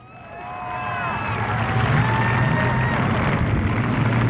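A speedway crowd at Thunder Road Speedbowl cheers for driver Phil Scott in car number 14, a distant roar that builds from quiet to a sustained loud cheer over several seconds.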